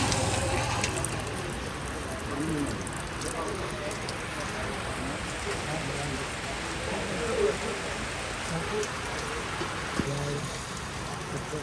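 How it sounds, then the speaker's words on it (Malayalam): Rain falling outdoors in Kerala, a steady hiss of drops that carries on beneath voices talking throughout. "മഴ ചതിച്ച് കഴി."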